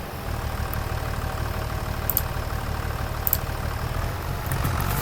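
The tractor engine in a farming video game idles and hums steadily, carrying a low, continuous rumble for the whole stretch with a few faint clicks on top.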